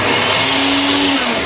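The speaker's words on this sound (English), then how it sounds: "Turn on the blender." A household blender runs loud and close with a steady whirring roar and a sustained motor hum for a brief moment, alone without talk.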